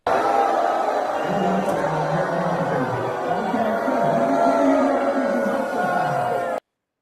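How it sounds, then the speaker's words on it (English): Crowd booing at a political event, a sustained mass of jeering voices heard from a distance with some shouting mixed in, steady throughout before cutting off abruptly. "so you can hear the booing"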